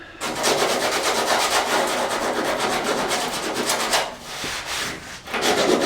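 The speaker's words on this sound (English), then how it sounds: "I'm painting this tomorrow and I'm here sanding it with 80 grit" Hand sanding a truck body with 80 grit sandpaper: steady, close scratchy rubbing strokes running almost continuously, with brief pauses near the end before the strokes resume.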